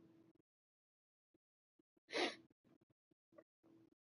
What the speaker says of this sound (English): Either my sneeze disrupted the game